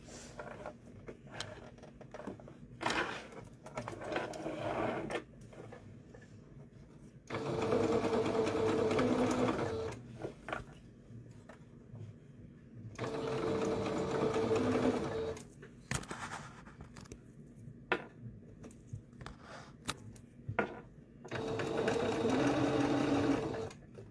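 A sewing machine stitches an Eagles shirt in three loud, steady runs of a few seconds each, separated by quieter pauses with small handling clicks and rustles.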